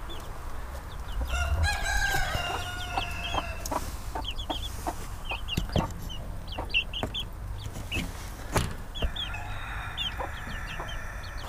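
Chickens and roosters in a coop, one of them a bloodied rooster, cluck repeatedly in a lively chorus, with crowing, nearby calls and scattered squawks over a steady outdoor background.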